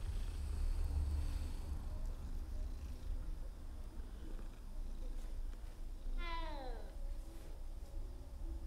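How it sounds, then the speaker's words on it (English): A strange, unnatural-sounding cat meow from the video game Hogwarts Legacy rises briefly over a steady low game ambience, a single short call near the end of the clip. "What was that meow? Not the proper meow of a cat."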